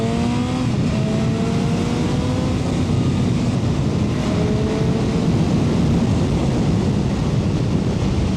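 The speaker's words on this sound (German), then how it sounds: "ich hoffe, ich kriege hier mal so ein Stück, wo ich mir ein bisschen den Motorsound auch zeigen kann" A 2025 BMW S1000RR motorcycle fitted with an Akrapovic titanium exhaust rather than the stock pipe accelerates during a break-in ride, its engine note climbing loud and close under heavy wind roar throughout.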